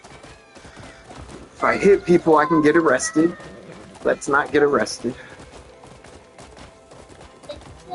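Horse hooves clop steadily in the video game Crimson Desert, a soft rhythmic patter running beneath someone talking.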